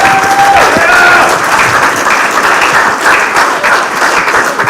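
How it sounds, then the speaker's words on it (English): An audience at a live open-source community conference in Africa gives sustained, loud, dense applause that holds steady for several seconds. A brief whistle-like tone rises above the clapping near the start. "Please let's put our hands together again for Odu."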